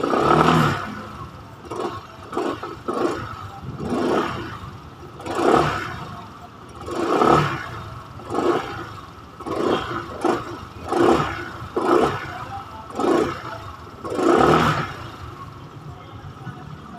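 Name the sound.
2025 Skygo Lance 150 motorcycle engine revving, exhaust sound check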